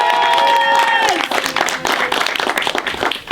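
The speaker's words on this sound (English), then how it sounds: "I think we can do that applause now" Studio audience breaking into applause and some cheering as a guest arrives, following a sustained musical tone at the start, with clapping building into a lively crowd roar and voices mixed in.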